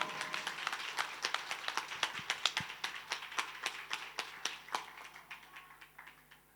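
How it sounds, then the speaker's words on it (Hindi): Audience clapping welcomes a guru mother onto the stage at a Ram Katha religious discourse event, with a run of distinct, fairly faint claps sounding at an uneven rhythm throughout. "मैं सब लोगों से निवेदन करता हूँ जोरदार तालियों से गुरु माँ का"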